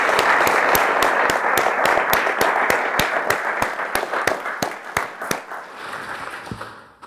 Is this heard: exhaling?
no